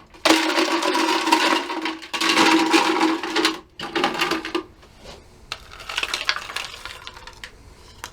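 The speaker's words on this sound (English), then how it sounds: "I'm gonna hit some ice on there." Ice cubes dropped into a sugar-rimmed cocktail glass, bursts of bright clinking and rattling in three close clusters, then lighter settling clinks.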